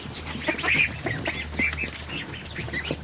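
Dalmatian ducks heading into a barn for the night quack and chatter in a busy, overlapping chorus at close range, with short honking calls cutting through at moderate loudness.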